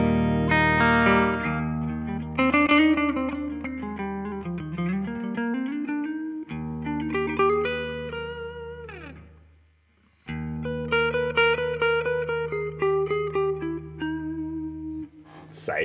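A Jazzmaster electric guitar through a valve preamp into a tube power amp plays sustained chords and melodic phrases with a warm, slightly driven tone and shimmering modulation, ringing out alone.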